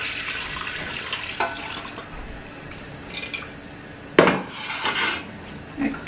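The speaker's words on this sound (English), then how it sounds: "this is the stock that I got from the turkey and the meat, the beef meat. So I'm going to sift it." Turkey and beef stock pours and splashes through a sieve in a kitchen, with steady liquid trickling and occasional clinks of metal utensils against a pot.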